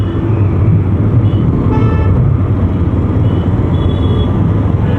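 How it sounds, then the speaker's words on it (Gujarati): Dense road traffic in a Gujarati city, a steady roar of car and scooter engines up close with short horn toots cutting through the din, heard without talk. "ટ્રાફિક"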